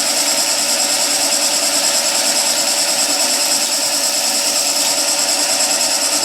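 A skew chisel makes a clean cut into spinning timber on a wood lathe, a loud steady high-pitched hiss and whir with a faint rhythmic pulsing, close and alone.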